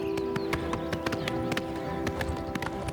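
Horse hooves clip-clop at a steady, quick trot in the video game Oblivion Remastered, with sharp regular hoofbeats, close and clear, over a constant droning music bed.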